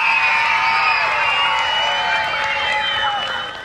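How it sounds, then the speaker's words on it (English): School crowd at a Teacher of the Year celebration cheering loudly for the teacher, a sustained wash of whoops and shouts that fades slightly at the end. "let's give one more cheer"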